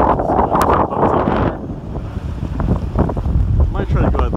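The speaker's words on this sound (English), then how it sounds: "it's kind of a blustery day" Gusty wind buffets the microphone on a blustery day at the water's edge near Titusville, a loud, steady roar that eases slightly partway through, with faint voices underneath.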